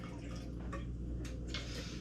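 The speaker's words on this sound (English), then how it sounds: "So I'm going to pour that in." Schnapps poured from a bottle into a shot glass gives a soft, quiet liquid trickle with a few faint splashy bursts, lasting about two seconds with no talking.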